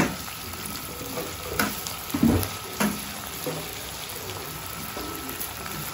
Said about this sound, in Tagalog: Kailangan natin prito-prito siya, i-fry ng konti.